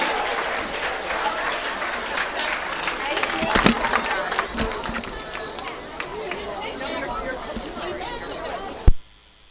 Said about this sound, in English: another big round of applause for your Mustang Cougars